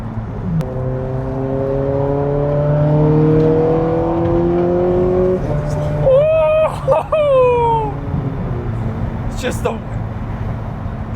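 A Ferrari 430 Scuderia at Brands Hatch revs hard on the track, its engine note climbing steadily before abrupt, aggressive gear shifts cut it and it rises again, loud and close, with people talking over it.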